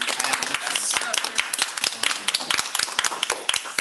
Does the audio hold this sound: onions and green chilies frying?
no